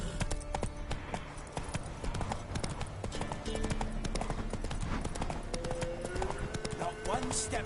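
Horse hooves galloping in The Witcher 3 video game, a rapid, steady clip-clop rhythm of hoofbeats with game sounds and brief voices mixed in.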